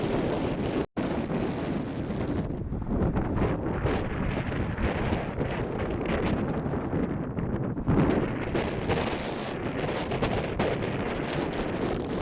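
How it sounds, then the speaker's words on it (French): Strong wind on a plain near Saint-Jouin-Bruneval, Normandy, buffets the microphone in a continuous loud roar, gusting and rumbling without pause. "Le vent dans la plaine"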